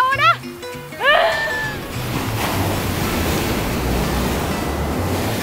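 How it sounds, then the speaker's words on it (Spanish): Ocean waves and surf at a beach in Huatulco, Oaxaca, a loud continuous roar of breaking water and wind, heard after a brief stretch of talking at the start. "esta tiene como más movimiento, más oleaje, un poquito más"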